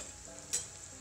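Spices crackling and sizzling in hot oil for a Kathiawadi curd tikhari, a steady close frying hiss with a brief louder spatter burst midway.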